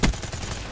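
Gunfire in the video game Call of Duty Black Ops 3: a sharp, loud shot at the start, then a short rattle of rapid fire in a dense, noisy game mix.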